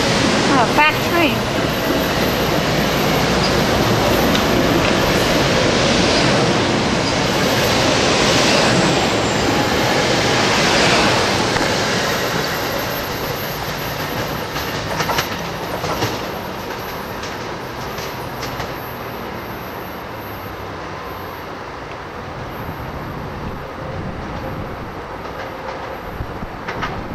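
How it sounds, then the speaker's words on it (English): A fast train rushes past close by at Southport with a broad roaring rumble and rattling wheels, loud at first then gradually fading as it moves away; a voice speaks briefly. "Fast train."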